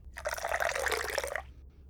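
A drink poured into a glass, a brief close liquid splash and trickle lasting just over a second in a quiet room.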